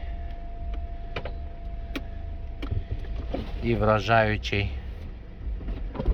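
A brief electric motor whine from the convertible roof of a 2019 Mercedes-Benz C-Class opening rises and falls for about a second, close by, amid a speaking voice and steady background hum.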